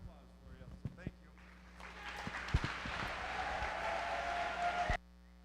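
Crowd applause at a high school swim invitational honoring senior swimmers and their parents, sparse claps building into steady, dense clapping for about three seconds before stopping abruptly, with scattered voices mixed in.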